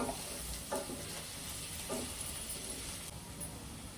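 Ginger and garlic frying in a pan for crab curry, a steady close sizzle with faint stirring clinks, quiet and continuous without any talk.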